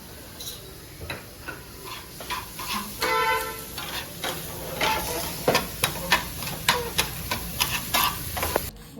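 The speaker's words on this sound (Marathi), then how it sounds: "असं कलर चेंज होपर्यंत तांदूळ भुजून घ्या" Rice and soaked chana dal roast in a dry pan while a spoon stirs them, giving a soft, continuous hiss broken by frequent sharp scraping clicks and taps that grow busier toward the end.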